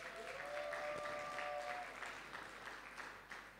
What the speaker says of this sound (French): c'est là qu'on acclame très fort pour le Seigneur